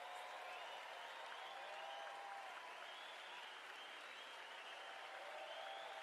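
Steady applause from a cricket crowd at a West Indies versus New Zealand one-day international for a batsman's fifty, a continuous distant wash of clapping that holds even throughout.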